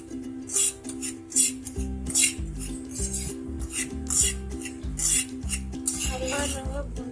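Semolina (rava) roasting in a pan for suji halwa, stirred with a metal spoon that scrapes and clinks against the pan in a steady rhythm over a background tone.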